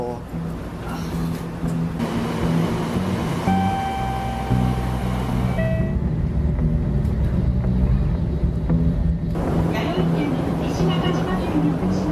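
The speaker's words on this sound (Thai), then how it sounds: "รถไฟชินคันเซ็นนะครับ" A Shinkansen bullet train bound for Kyoto rumbles steadily with a rushing, whooshing hum. Faint tones come and go, and the noise shifts as it passes through changing surroundings.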